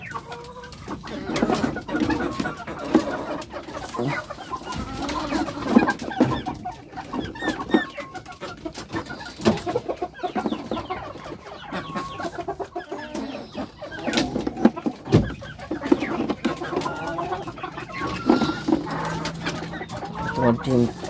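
Hens clucking on a poultry farm, a busy mix of overlapping clucks and bird calls from several birds at close range, with a background murmur that may include voices.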